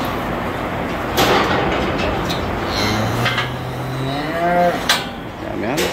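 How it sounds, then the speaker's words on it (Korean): Calves moo in a cattle barn, with a few drawn-out calls rising over steady barn background noise. The calls are moderately loud and fairly close, coming in separate bursts through the middle and later part. "이 사이로 송아지가 왔다 갔다 합니다."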